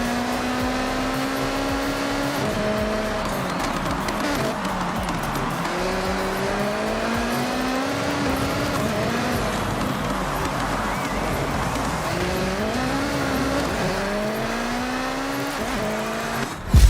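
Race cars speeding through an event in the video game Forza Horizon 6: a continuous loud engine whine rising and falling through gear changes, with tire squeal and the drone of other cars, with no talking heard.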